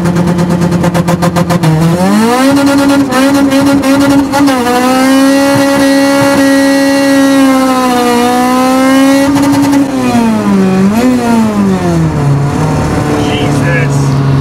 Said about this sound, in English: As you guys hear, it's a little loud in the car.